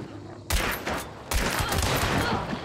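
Loud gunfire in the video game Hunt: Showdown, with two sharp bursts of shots that each ring out into a long, rolling echo. There is no speech over it.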